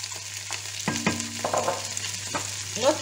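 Onion frying in a pan while being stirred and scraped, a steady sizzle under clinks and scrapes of a utensil, several distinct knocks and a swelling spatter near the end, no speech.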